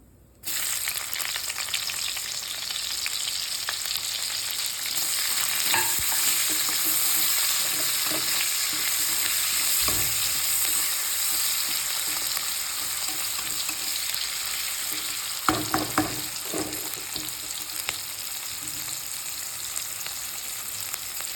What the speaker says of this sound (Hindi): तापर मसला को ग्राइंड करली काटी पियाज को मु फ्राए करूची